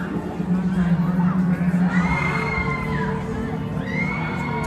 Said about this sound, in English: I love to hear people as they scream up and down.